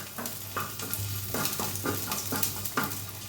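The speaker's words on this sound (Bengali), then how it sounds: "দিয়ে আমি একটু ফ্রাই করে নেবো," Chicken pieces and chillies fry in a pan until browned, producing loud, continuous sizzling with rhythmic bursts as they are stirred and turned.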